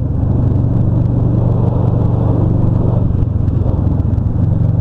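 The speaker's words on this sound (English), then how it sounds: "He's actually hitting the gas right now." A car hits the gas close by on a dark, rainy road beside a scooter and motorcycles, its engine a loud, continuous, rumbling drone with light clatter, heard alone without talking.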